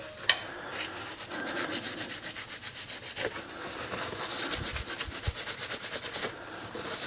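Cloth rubbing a surface with wax and grease remover while prepping a Bell Bullitt helmet for a GoPro Hero9 mount, steady close back-and-forth wiping strokes with a rhythmic scrubbing texture and no talking.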